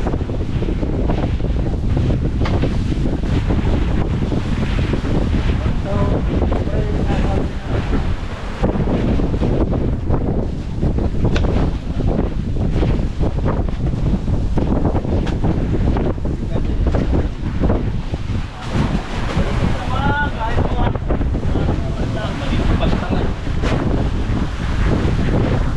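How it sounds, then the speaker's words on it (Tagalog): Strong wind buffeting the microphone in a loud, constant roar, with surf or water rushing underneath and no clear speech. "Malakas yung hangin"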